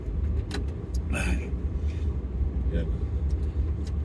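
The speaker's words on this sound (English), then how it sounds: "This truck does not have a very good turning radius compared to what I've seen other Ford trucks have." A Ford pickup truck maneuvering and turning tightly around a yard, its engine rumbling steadily at close range while a person speaks briefly over it.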